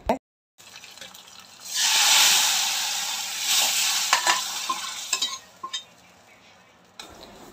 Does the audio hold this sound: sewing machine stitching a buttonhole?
no